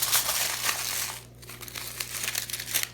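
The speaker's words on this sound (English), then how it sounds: "you're going to take your piece of foil and you're going to crumple it up." Close crinkling and crackling as a piece of aluminium foil is crumpled by hand, dense and steady with a brief pause partway through.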